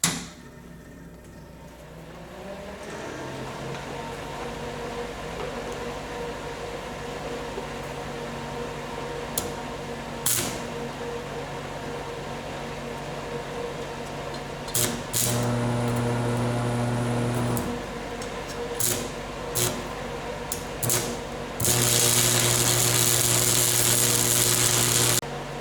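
An old stick arc welder gives a steady electric buzzing hum with bursts of harsh crackling sizzle while laying a bead, starting and stopping several times, loud and close.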